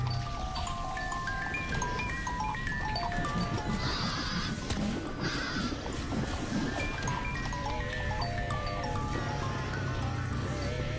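A horse in the Mabinogi video game whinnies while hooves clip-clop, set within a busy, continuous game soundscape of tonal music and chirping birds.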